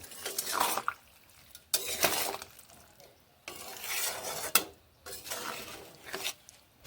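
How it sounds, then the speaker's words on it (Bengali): Winter vegetables with salt are stirred in a pan, giving a series of close scraping, shuffling strokes in repeated bursts with short pauses between them. "নুন মিশিয়ে ভালোভাবে নেড়ে নেব"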